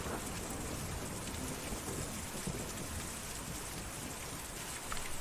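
Steady, heavy rain from a storm in the video game Kentucky Route Zero hisses without a break, with scattered raindrops and a faint rumble underneath, dense and close throughout.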